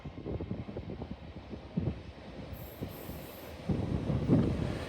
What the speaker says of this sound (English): Departing now with your 12:27 LNER Zuma service starting here at York heading to London King's Cross